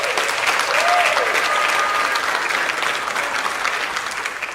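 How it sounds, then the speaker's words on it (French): Wedding guests at an Ivorian wedding breaking into sustained, dense applause that holds steady and slowly fades, with a voice faintly heard over the clapping. "ovation pour vous-même."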